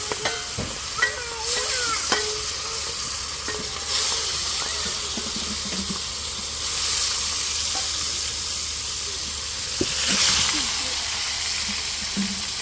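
Fish frying in a pan on a home stove gives a broad hiss and sizzle that swells and fades in waves, with scattered sharper crackles and some background voices.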